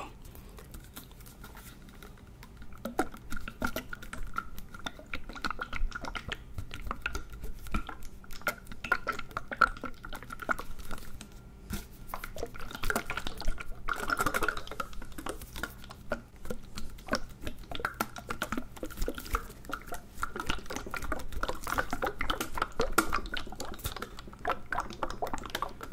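Liquid soaps are squished, squirted and swirled up close in a continuous wet, crackling patter of drips and gooey squelches, steady and dense throughout with no voice over it.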